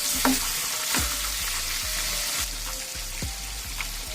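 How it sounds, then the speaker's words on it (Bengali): Pangasius fish fries in a pan over low heat, a steady close sizzle running throughout, with a few clanks and scrapes from the fish being flipped and no talking. "মাছটা কিন্তু আমার এক পাশ হয়ে গেছে এখন মাছটা একটু উল্টো দেবে"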